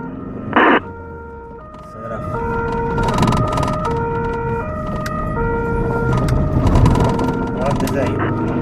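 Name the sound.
ambulance siren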